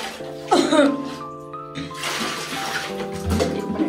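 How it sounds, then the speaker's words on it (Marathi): Lukewarm water runs and splashes close by while a beagle is bathed. The flow is steady, with brief louder gushes. "कोमट असं पाणी वापरायचं डॉगला नेहमी."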